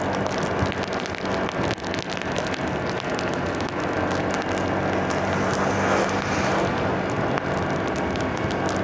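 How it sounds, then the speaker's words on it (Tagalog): Steady rain falls during a road ride in the Philippines, a dense, continuous hiss of drops hitting surfaces, mixed with road and wind rush, loud and unbroken throughout with no talk. "Sugurin na natin tong ulan kahit mabasa."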